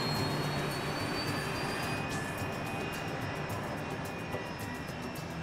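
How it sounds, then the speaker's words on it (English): Turbofan engines of a British-built BAE 146 commuter jet give a steady, fairly quiet broadband roar that holds level throughout, with no one speaking. "With quiet turbofan engines, it's designed for short-haul flights over densely populated areas."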